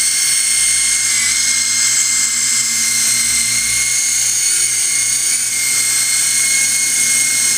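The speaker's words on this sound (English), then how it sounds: "Good helicopter. You fly pretty high." A small indoor RC helicopter, model S032, hovers with a steady high-pitched rotor and motor whine that stays loud and close throughout.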